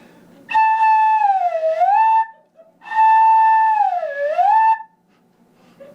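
Two long swooping notes come from a flute head joint played alone, each sliding down and back up in pitch like a siren or slide whistle, clear and loud with a pause between them.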